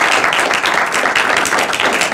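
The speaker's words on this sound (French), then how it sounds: "Je vais demander un premier applaudissement." Dense, steady applause from an audience at an evening event, sustained clapping that fills the room evenly throughout without any break.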